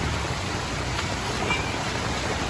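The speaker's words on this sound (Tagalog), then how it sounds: "lakas ang agos ng tubig" Steady, loud rushing of fast-flowing river water coming down from the mountains during monsoon rains, a dense broadband roar with no breaks and no voices.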